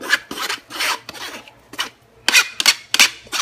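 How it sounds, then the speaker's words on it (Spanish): Dry orzo pasta is poured into a pot in several short bursts, each a crisp rattling hiss of small grains, with brief pauses between pours. "Y vamos a poner nuestra pasta."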